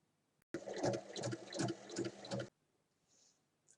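A sewing machine runs in one steady burst of about two seconds, stitching the base of a fabric pouch with a lined opening, and then stops, leaving a quiet room with a faint brief sound afterward.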